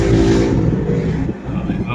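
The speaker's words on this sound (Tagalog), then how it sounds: "May mga motor arangkada" Motorcycles accelerate along a road. A loud, buzzing engine note pulls past and then fades, with a voice talking over it.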